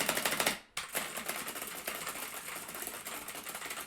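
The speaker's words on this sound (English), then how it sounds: "They're blue switches, so you can just imagine how noisy they are by typing." Typing on a custom mechanical keyboard with clicky blue switches produces rapid, dense, close-up clatter that runs almost continuously, broken by one brief pause early on.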